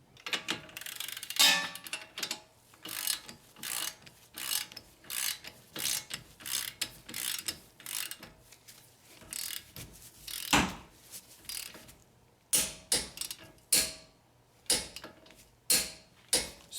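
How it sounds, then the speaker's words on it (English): A torque wrench tightens the front strut bolts on a Toyota Avalon to 95 foot-pounds, with rapid repeated ratchet clicks in close, loud bursts and brief pauses between strokes. "now I'm gonna use a torque wrench to torque the bolts for the strut"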